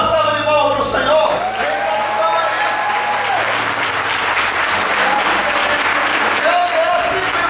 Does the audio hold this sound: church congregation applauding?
yes